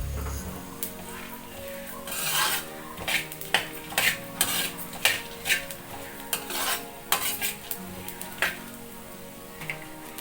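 Coriander seeds and cumin fried over a medium flame in a pan, heard as a soft sizzle under repeated metallic clinks and scrapes of a utensil stirring against the pan.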